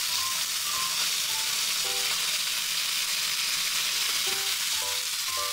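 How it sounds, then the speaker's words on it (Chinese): Fish and tofu frying in a hot wok for mapo, a loud continuous hiss and sizzle close up, with faint scraping from stirring. "锅子热了，我们放入那个鱼。 再来呢，加入豆腐。"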